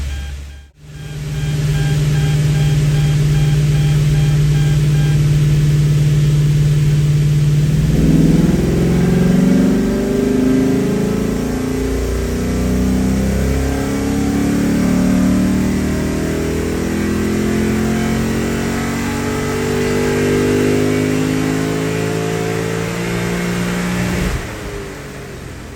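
A Lexus IS F with its muffler deleted revs hard on a dyno: a loud, close, droning engine note holds steady, then climbs through a long rising pull before dropping off.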